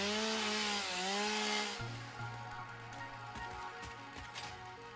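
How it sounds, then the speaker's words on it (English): A blue chainsaw in the video game Satisfactory revs with a steady, loud motor whine that dips in pitch partway through, then settles into a lower, continuous buzz as it cuts. "Get out my offensively blue chainsaw."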